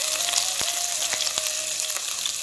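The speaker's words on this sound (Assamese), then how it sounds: "তেলটো গৰম হৈ গ'ল মই এতিয়া এই তেলতে কেইটামান কলা জিৰা দি দিছোঁ" Black cumin seeds and ginger-garlic paste hit hot oil while making a mustard-greens pickle, giving a loud, continuous close-up sizzle with a few sharp pops and knocks scattered through.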